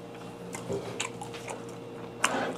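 Someone chews white beef tripe (cheonyeop) dipped in chojang sauce, giving soft, wet, squishy bites and faint crunches, close and quiet, with a sharper bite near the end.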